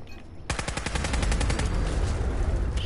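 Rapid burst of gunfire from Fallout 4, a dense run of loud, close shots firing in quick succession after a brief quiet start, then continuing as sustained automatic fire.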